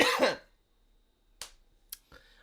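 A person coughs and clears a throat: a loud rough burst at first, then after a pause a few short, sharp hacks, each separated by silence.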